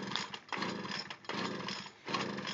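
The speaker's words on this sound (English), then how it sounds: "gassing up the leaf blower" A gas leaf blower engine sputters as someone starts it, the rough, buzzy motor noise surging in three bursts with short dips between them, close by.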